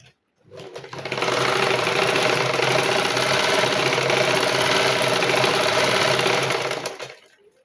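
A sewing machine stitches the hem of a silk pavada skirt, its motor running in one steady, loud, continuous whir for about six seconds before stopping.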